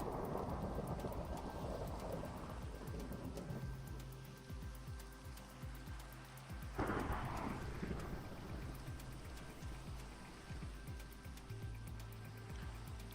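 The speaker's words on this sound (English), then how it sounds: "Lightning just going absolutely crazy." A thunderstorm with lightning in the Minecraft video game: steady rain hiss under low rumbling thunder, with a sharper crack partway through and a continuous stormy wash throughout.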